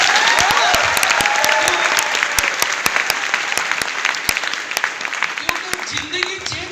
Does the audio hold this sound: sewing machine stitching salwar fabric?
no